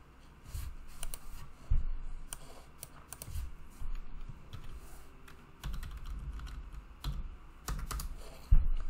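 Fingers typing on a computer keyboard, a close run of irregular key clicks with short pauses and a few heavier keystrokes, with no voices.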